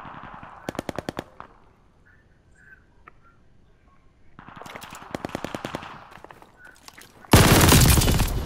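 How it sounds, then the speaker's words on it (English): Rapid machine gun fire in Call of Duty: Vanguard, from a gun that sounds like an MG42, comes in two quick, crisp bursts with quiet gaps between them, followed by a loud, dense blast of noise at the end. "The Wiz gun just feels like an actual MG42"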